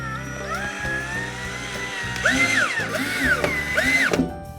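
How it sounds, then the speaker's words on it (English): Power drill driving drywall screws into pre-drilled holes while mounting a louver in a window, whining motor bursts rising and falling in pitch, close and loud, with no talking. "We're again going to use drywall screws in the pre-drilled holes, and let's screw it into place."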